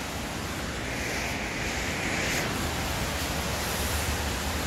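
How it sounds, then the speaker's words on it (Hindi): Winter morning rain falls steadily in Dubai as a dense, even hiss with no letup, loud and close throughout, with no voices. "लेकिन ये यहाँ पे सर्दियों की आज दूसरी बारिश है।"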